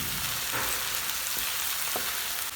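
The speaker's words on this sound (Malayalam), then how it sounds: "ഒരു ബ്രൗൺ നിറമാവുന്നത് വരെ വഴറ്റാം കേട്ടോ." Ingredients for Mughalai chicken being sautéed in a pan until brown give a steady, close, hissing sizzle, broken by a few soft scraping stirs.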